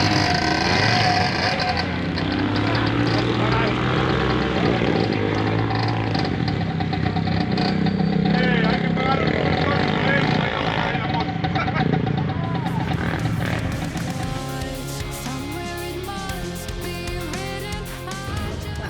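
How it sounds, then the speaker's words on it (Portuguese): Dirt motorcycles riding through the woods, their engines droning and revving steadily at a moderate distance while someone talks over them throughout. "temos o barulho das motas por trás"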